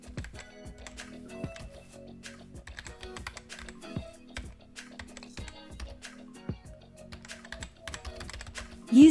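Payment card details being typed on a computer keyboard, a close, quiet run of irregular clicking keystrokes continuing throughout.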